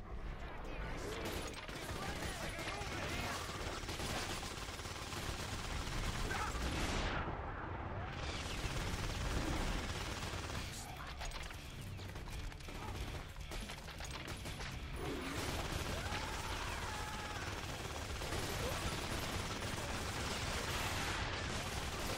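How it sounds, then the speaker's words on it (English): Dense, continuous gunfire from the video game The Darkness, rapid bursts and heavy blasts overlapping into a loud, chaotic barrage that runs throughout. "there's so much gunfire, and I feel like I get hit from everywhere"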